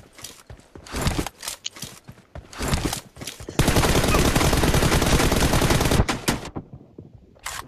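Video game gunfire in a team deathmatch battle: loud, close bursts of rapid shots with short gaps, then one long continuous automatic volley before a few final shots and a brief silence.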